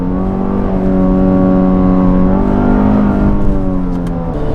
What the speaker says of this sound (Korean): 지금 이렇게 2단 정도의 고정을 해두고 고RPM을 써보게 되면 약 5000 정도 부근에서는 조금 거친 사운드가 많이 유입이 되는데요